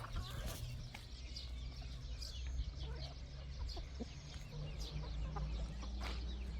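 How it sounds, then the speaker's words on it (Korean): Chickens cluck in a backyard coop and run area, with scattered soft clucks and short calls at moderate distance over a quiet outdoor background. "닭장 놀이터."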